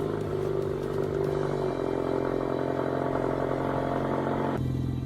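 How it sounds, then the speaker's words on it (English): Pontiac Solstice engine in the Roblox game Driving Empire, a steady idling hum with a low buzzing tone that shifts pitch slightly midway and near the end, heard alone. "So let's go ahead and start it up."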